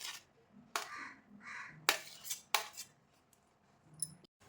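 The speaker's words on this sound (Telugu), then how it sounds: "బయట కాకి అయితే బాగా అరుస్తుంది" A crow caws outdoors in three or four sharp, loud bursts spaced about a second apart, while faint clinks of kitchen utensils sound nearby during fruit salad preparation.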